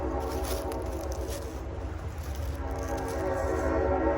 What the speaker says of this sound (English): I can hear the train.